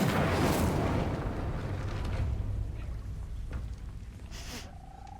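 The Incendio fire spell in Hogwarts Legacy bursts out with a loud, roaring whoosh of flame that slowly fades into a low crackling rumble, followed by a faint chime near the end.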